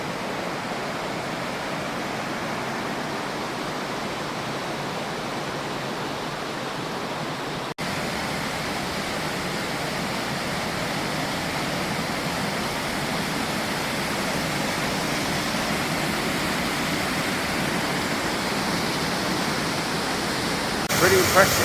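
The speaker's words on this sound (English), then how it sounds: "Say it's only a small waterfall, but yeah, not too bad at all." Small waterfall at Lumsdale Falls, a constant rushing cascade of water heard close and steady, growing a little fuller midway and holding evenly to the end.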